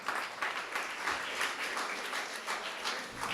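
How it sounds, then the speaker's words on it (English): Audience applause at a memorial gathering, a steady wash of many hands clapping together for a few seconds, moderately loud with no speech over it. "And let's applaud Tommy."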